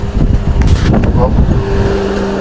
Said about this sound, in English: Yeah, it's blowing high, as you can see. It sounds like an airplane.